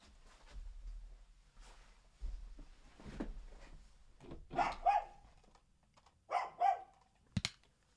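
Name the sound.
dog barking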